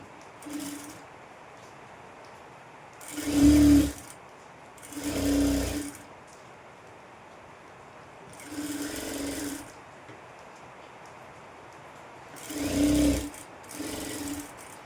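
Stitching a blouse neck lining, a sewing machine runs in five or six short bursts of rapid whirring, each lasting about a second, separated by quiet pauses.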